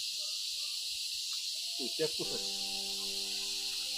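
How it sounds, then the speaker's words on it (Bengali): Dense, steady chorus of crickets and other insects trilling at a cave site near Cherrapunji in Meghalaya, a continuous high shimmer across the whole stretch, with a brief voice and a few tonal sounds midway. "ঝিঝি পোকার আওয়াজটা কত সুন্দর দেখেন"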